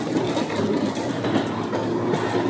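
A subway train rumbles and clatters steadily through Tenjin station in Fukuoka, a continuous rolling noise heard from the platform without any voices.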